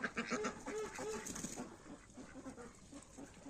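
Farmyard geese and ducks feeding on halved and quartered pumpkins spread around their run, giving faint, scattered honks and quacks at a distance.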